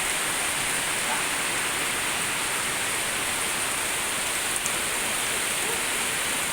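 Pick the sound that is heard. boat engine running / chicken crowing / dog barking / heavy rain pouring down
heavy rain pouring down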